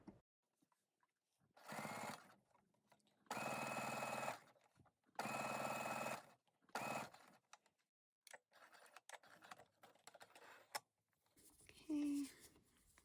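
A home sewing machine edge-stitches a narrow dress strap in four quick whirring runs of varying length, separated by pauses and faint handling sounds, close and clear.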